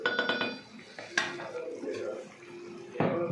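Red snapper pieces dropped into a thickened simmering curry with clinks and clatters of a pot and spoon, soft splashing and stirring in between, close and moderate in level.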